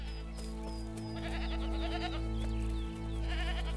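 Goats and sheep of a grazing herd bleat on open Mongolian grassland, sending out several faint, thin cries across the middle of the stretch over a constant low hum, with no one speaking.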